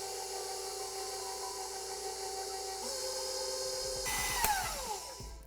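An electric mixer running on low through edible cookie dough with flour being added, a steady faint whirring motor hum that grows slightly stronger, then ends in some clattering knocks.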